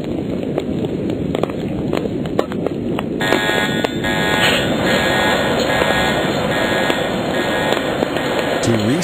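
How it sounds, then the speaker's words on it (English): A fire sprinkler system's alarm bell starts ringing partway through as the alarm valve activates, a continuous loud metallic clanging over rushing water and mechanical noise. "Water will also flow through the alarm port to the alarm devices to indicate water flow"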